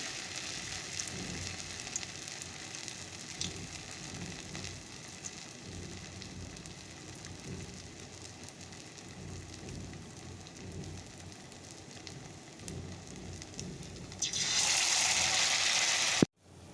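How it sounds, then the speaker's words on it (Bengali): Bora fritters frying in very hot oil, a steady soft crackle and sizzle throughout, swelling into a louder hiss near the end as more batter drops into the pan. "চলো তেল প্রচণ্ড গরম হয়ে গেছে তেলটা একটা নিয়ে দিলাম এরকম করে চলো সবগুলো বড়া দিয়ে দিই"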